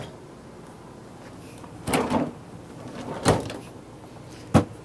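Long storage drawers in the kitchen of a 2006 Gulf Stream Independence 8330 motorhome slide and knock shut three times, each a brief thud against a quiet room.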